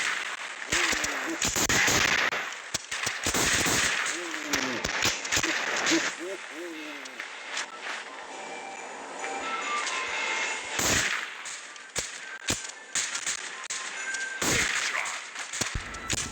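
Sniper and shotgun fire in the video game Winter Clash 3D: sharp shots crack repeatedly, some in quick clusters and others spaced apart, with talking heard throughout.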